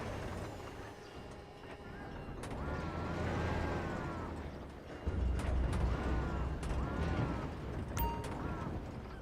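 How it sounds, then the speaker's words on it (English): A dockside crane in GTA V lowers a shipping container onto a truck's frame at the port. Its mechanical motor whines in rising and falling tones over ratcheting clanks, fairly faint and continuous, with a heavier thud partway through. "Bring the container down over the truck's frame."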